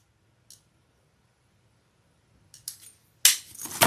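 Scissors snip through a fabric zipper being trimmed for a sewing project: a faint click, then a couple of crisp cuts ending in one louder, sharper snip, close and alone.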